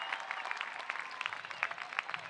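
Audience at the 2026 CSUN engineering commencement bursts into cheering and sustained applause, a dense crowd clapping steadily throughout with scattered louder claps.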